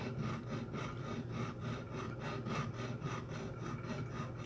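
A piece of wood set into a Lee Enfield rifle stock is worked level with its surface, giving steady back-and-forth rasping strokes in an even rhythm, close and fairly soft.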